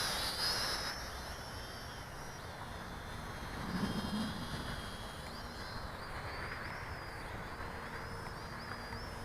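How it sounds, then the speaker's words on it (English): A small SJ R/C X300-2C camera drone flies at high speed outdoors, giving a steady buzzing whine with pitch shifts as it moves, constant and moderately close for the whole stretch. "Not the speediest drone."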